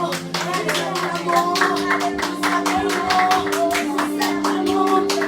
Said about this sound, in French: nous acclamons très fortement notre Dieu Saint-Matin